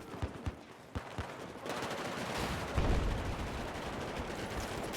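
Gunfire in the video game Battlefield 4: a few single sharp shots, then a sustained dense burst of automatic fire with heavy booming mixed in, loud and continuous to the end.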